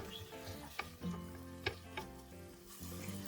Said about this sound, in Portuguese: Vou deixar isso aqui refogar por cerca de 2 ou 3 minutos.